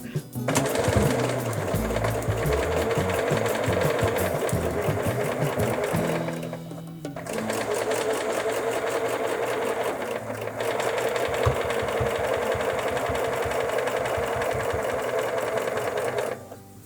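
A sewing machine stitches in the ditch along a pressed quilt seam, a loud, steady rapid drone running almost continuously with one brief pause partway through.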